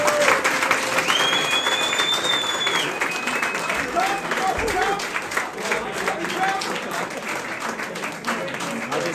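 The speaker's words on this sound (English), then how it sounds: "A round of applause." Applause from a crowd at an awards night, steady clapping throughout with some cheering and chatter mixed in, fairly loud and close.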